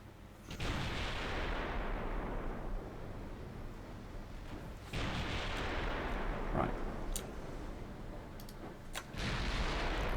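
Ship artillery in a Greek naval campaign battle game booms out in heavy, rumbling volleys, three big salvos a few seconds apart with sharp cracks between, loud and close, no talking.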